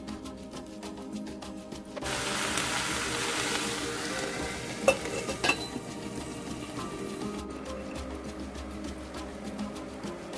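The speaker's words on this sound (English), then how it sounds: "I added oil, a pinch of salt, and pepper into the sauteed cabbage." Cabbage sautéing in a pan with oil, salt and pepper, a loud, steady sizzle that swells after a quieter start, with occasional clinks of a utensil against the pan.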